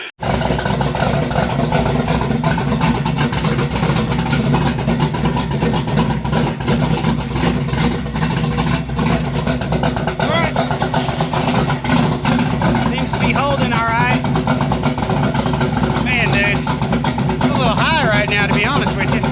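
A squarebody truck engine runs steadily after a fuel-system repair, a loud continuous rumble with slight revving throughout, and someone talks over it at times.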